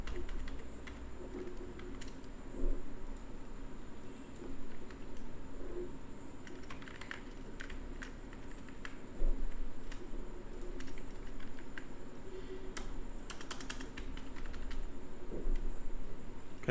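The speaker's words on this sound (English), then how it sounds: "Is my keyboard not working?" Someone types on a computer keyboard in uneven bursts of quiet clicks and taps, close by, with pauses between runs and a low background hum.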